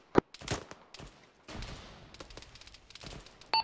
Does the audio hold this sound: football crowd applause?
no